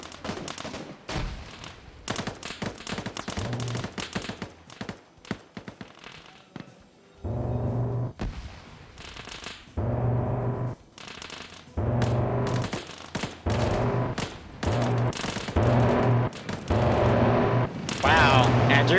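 Bursts of gunfire strike the Zeus T-3 in a Finnish-campaign video game battle, with crackling volleys and rapid machine-gun rattles coming in clusters while a voice talks over them.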